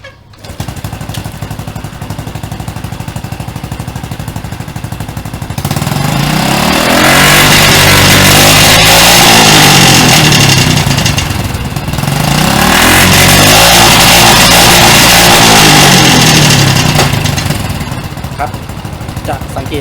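A motorcycle engine idles, then revs hard twice, climbing quickly and holding at an ECU-set 5,000 rpm rev limiter before falling back, loud and close.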